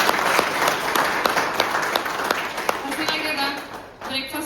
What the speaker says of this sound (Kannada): ನಿಮ್ ಸಲುವಾಗಿ ಒಂದ್ಸಲ ಜೋರಾಗಿ ಚಪ್ಪಾಳೆ ಬರ್ಲಿ